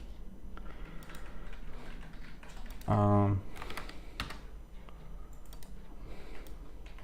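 A computer keyboard being typed on while building a web app, a brief quick cluster of keystrokes in the middle, fairly faint under a steady room hum with someone talking around it.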